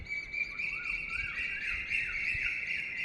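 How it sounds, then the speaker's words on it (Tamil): An Asian koel calls outdoors with a string of rising whistled notes repeated in steady succession, clear and moderately near against a quiet background. "குயில் சத்தம் கேட்குதா?"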